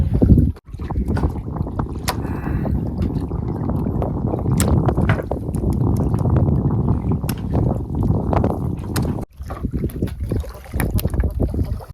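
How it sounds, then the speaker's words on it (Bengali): Steady wind buffeting on the Matla river during a fishing trip with a net from a small boat, a loud low rumble with occasional clicks and knocks, and a brief drop near the start and later. "ভাই না এবার একটু হাওয়া আছে না?"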